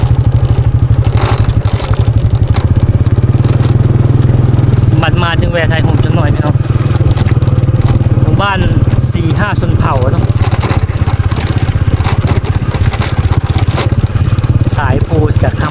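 A motorcycle being ridden along a rural road in southern Laos, its engine droning steadily throughout, loud and close, with voices talking over it.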